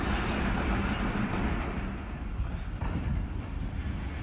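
The Hazara Express moves out of a railway station as a steady rumble of wagons and wheels with faint rail clatter, a moderately quiet, continuous roll that drops slightly in the middle.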